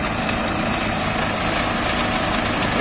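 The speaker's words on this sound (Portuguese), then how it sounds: "Esse barulho é o motor dele, esse barulho nojento" A tow tractor pushing a heavy iron bar on a rural farm runs its engine at high revs, a continuous harsh droning rumble heard up close and alone, holding steady throughout.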